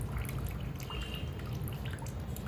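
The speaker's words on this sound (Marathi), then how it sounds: "असले एक झारा घ्यायचा म्हणजे पाणी असेल ते असं खाली निघून पडते." Water drips and trickles through a slotted spoon (jhara) while soaked idli ingredients are strained, giving a close, steady patter of small drops over a low rumble.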